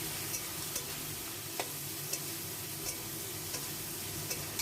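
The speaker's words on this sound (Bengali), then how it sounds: "আলুটা আমি প্রথমে ভেজে নিচ্ছি।" Potato pieces fry in a pan with salt and turmeric, giving a steady soft sizzle broken by regular light clicks of a spatula stirring roughly every half second.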